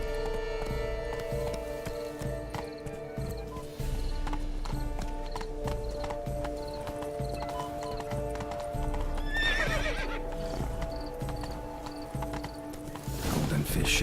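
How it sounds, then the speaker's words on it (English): A horse gallops with rapid, continuous clip-clop hoofbeats and whinnies twice in The Witcher 3 video game. The hooves are close and steady, and talking and game sounds run underneath. "Be better off on horseback."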